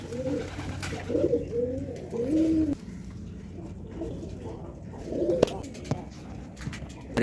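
Fantail pigeons in a loft coo in soft, rolling low calls, several phrases close by in the first few seconds and again later, over a faint background murmur.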